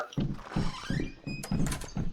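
Repeated hollow thunks of a door in a Garry's Mod horror map, six heavy knocks in a fairly even rhythm, with faint game ambience around them.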